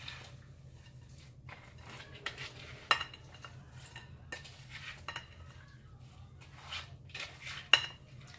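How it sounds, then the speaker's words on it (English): A grain-free granola mix tossed and stirred in a bowl while camping, with scattered soft clinks and scrapes of a utensil against the bowl and a couple of sharper knocks, quiet and close. "mixing it, coating everything up"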